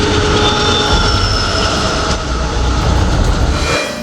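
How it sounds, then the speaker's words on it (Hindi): A metro train runs on its rails with a loud, continuous rumble and rattle, faint wheel squeal and a sharp clunk near the end, heard from close by. "Metro rail."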